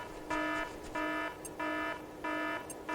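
Alarm in the video game SOCOM US Navy SEALs II blares as a faint, repeating electronic tone, four evenly spaced pulses of steady pitch with short gaps between them.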